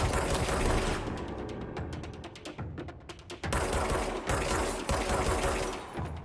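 Enemy gunfire in the Control video game, rapid mechanical rattling bursts with clicking, ratchet-like pulses, loud and close, broken by a brief lull in the middle.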